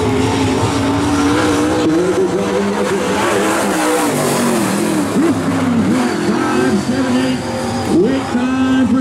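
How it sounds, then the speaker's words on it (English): Late model race car at Sumter Speedway on a qualifying lap, its loud engine droning and revving steadily close by, with pitch swells as it accelerates through the turns, under announcer commentary. "Now next will be the 54 car, Mr. Justin Mintz."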